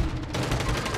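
Rapid gunfire in the online shooter Fortune's Keep, a quick burst of closely spaced shots packed into about a second, loud and harsh with no talk over it.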